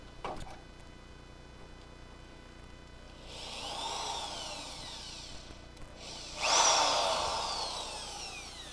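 A power drill bit grinds into seam sealer on a car body during a Charger crew cab build, two separate whining bursts that rise and fall over a faint background hum.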